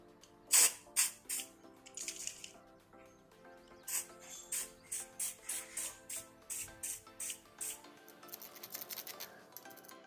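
A Daiwa Regal MX 3000 spinning fishing reel, sprayed with WD-40, is cranked by hand, giving a rapid run of close, crisp mechanical clicks and ratcheting ticks in a steady rhythm, with no talking over it.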